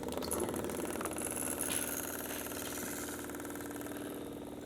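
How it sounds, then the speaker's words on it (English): The electric fuel pump of a 1981 Trans Am, abandoned for 18 years, whirs and buzzes steadily near the car, a continuous mechanical drone that eases slightly toward the end. "we should hear the fuel pump engage."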